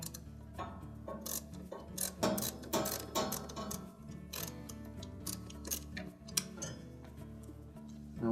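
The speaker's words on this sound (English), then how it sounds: "So we'll use the extension on our ratchet," A ratchet with an extension turns out a refrigerator condenser fan motor mounting bolt, giving a steady run of close, dense clicking ticks over a low background hum.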